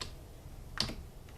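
A single sharp key press on a calculator, close and quiet, followed by a fainter tap, alone in a quiet room.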